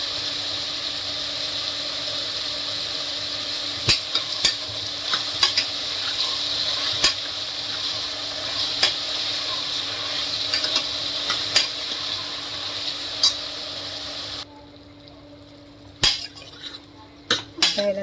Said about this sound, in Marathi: चांगलं मिक्स करूया दोन ते तीन मिनटं आपण खालवर करून घेऊया